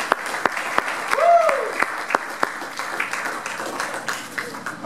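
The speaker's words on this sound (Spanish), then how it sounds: "Denle un aplauso fuerte al Señor" A Pentecostal congregation applauds during a Spanish-language resurrection service, with scattered sharp claps over a few seconds and a voice calling out partway through.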